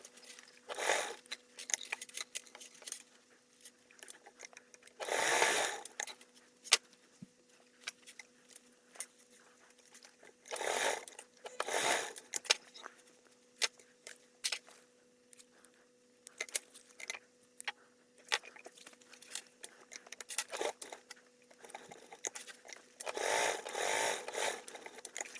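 A sewing machine top stitching a duffle bag piece runs in several separate bursts of fast, steady whirring, some brief and one longer run at the end, with quiet handling noises in the gaps.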